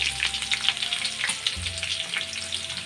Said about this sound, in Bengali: আলুটা ভাজা হয়ে গেছে লাল লাল করে